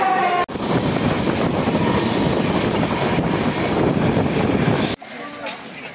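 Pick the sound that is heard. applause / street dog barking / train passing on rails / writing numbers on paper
train passing on rails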